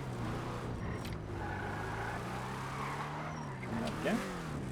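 Rocket-powered bat machine in the video game Vigilante, a sustained engine drone with shifting pitch as it drives through traffic, with a brief higher whine near the end, heard under talk.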